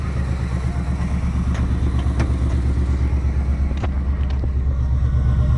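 Straight-piped Ford Mustang GT V8 idling in its quiet exhaust mode, a steady low rumble throughout with a few faint ticks and wind noise, no talking.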